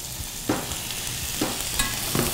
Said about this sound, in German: Lasst die Pfanne richtig schön heiß werden, damit die Garnelen außen karamellisieren und richtig schön knusprig werden.